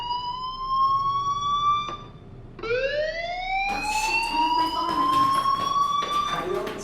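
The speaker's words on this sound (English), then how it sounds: "Hey, do you hear that fire alarm?" A school fire alarm in the video game Life is Strange rings as a loud, steady electronic tone that cuts out near two seconds, then restarts with a rising sweep and holds on, with a voice speaking over it.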